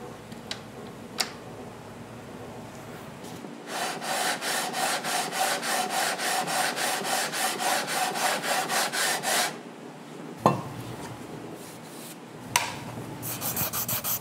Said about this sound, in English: The sandpaper is at a fine enough grit now that it's not really going to change the geometry of the fingerboard or its radius.